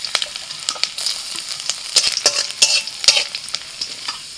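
Chopped ginger and garlic sizzle in mustard oil with dried red chillies and cumin, loud and close, with repeated sharp spatula scrapes and clinks against the pan and no talking.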